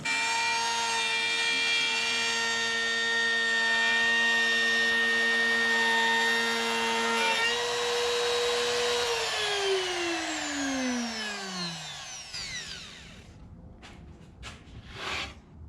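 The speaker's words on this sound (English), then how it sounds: "a router with a homemade circle cutting jig to cut a 5 or 6 inch hole in the middle" A router fitted with a homemade circle cutting jig cuts a 5 or 6 inch hole in wood, giving a loud steady high whine that spins down after about nine seconds to silence, followed by a few light knocks.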